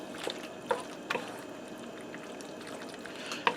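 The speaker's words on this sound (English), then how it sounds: "I'm going to get that in. And just stir that into the cheese sauce." Boiled shell pasta being stirred into a cheese sauce for broccoli mac and cheese, giving a few faint, wet squelching clicks spread over a quiet, steady background with no voices.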